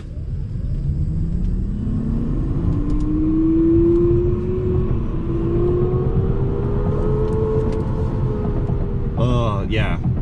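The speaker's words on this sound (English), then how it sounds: "I'm gonna do a quick launch right here." A Toyota electrified sedan launches from a standstill and accelerates hard, a steady low drivetrain whir rising in pitch and holding loud throughout, with a brief burst of voices near the end.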